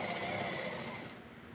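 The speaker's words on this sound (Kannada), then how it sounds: "ಈ ರೀತಿ ಇಟ್ಕೊಂಡು ಸ್ಟಿಚ್ಚನ್ನು ಹಾಕಬೇಕು." Sewing machine running fast while stitching the fall onto a saree, a rapid, even mechanical whirr up close that slows toward the end, with no talking.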